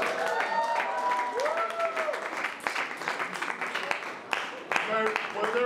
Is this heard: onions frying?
no